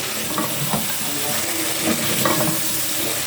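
Garlic paste sizzles and crackles steadily in a hot pan for chicken karahi, with faint stirring scrapes and no talking.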